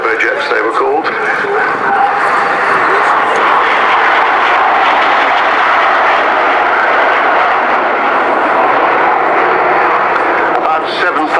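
A Gloster Meteor NF.11 night fighter with twin centrifugal turbojets passes at an RAF Cosford airshow, a loud, steady, broad engine roar that holds for the whole stretch, with an announcer talking over it.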